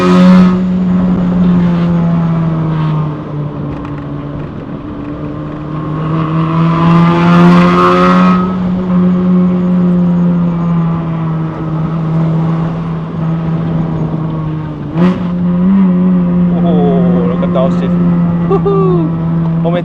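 A facelifted GK5 Honda Fit RS with a six-speed manual climbs toward Genting in Malaysia. Its engine drones loud and close, with a sharp rising rev blip partway through as it shifts down, and a voice talks over it.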